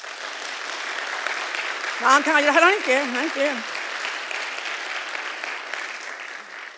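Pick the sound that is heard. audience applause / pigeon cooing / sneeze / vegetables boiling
audience applause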